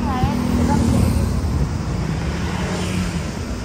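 Cars and motorbikes pass along a busy street in Greece, a steady wash of engine and tyre noise up close with a brief high tone near the start and a person talking over it.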